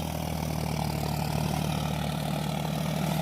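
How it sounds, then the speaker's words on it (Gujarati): A tractor engine runs at a steady idle, a constant low rumble with no pauses. "ટ્રેક્ટર"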